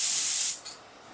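An HVLP spray gun driven by a compressor lays a urethane finish coat on a wooden piece. It gives a loud, close, steady airy hiss for half a second, then cuts off, leaving a faint short puff and quiet room tone.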